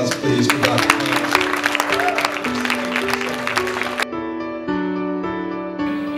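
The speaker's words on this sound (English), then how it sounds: "One more round of applause, please, for Dr. Thomas." Audience applause at a charity gala, a dense steady patter of clapping that runs for a few seconds before giving way to sustained musical tones that carry on to the end.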